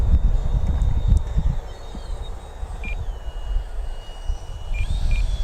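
An FMS Viper 70mm V2 electric ducted fan RC jet flies overhead with a thin, high whine that shifts in pitch, set against heavy wind rumble, with a few faint beeps.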